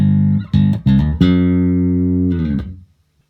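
A bass guitar runs through a Boss GEB-7 bass equalizer pedal with every control at its midpoint. A few short plucked notes lead into a long sustained note that rings clearly on its own and then fades out.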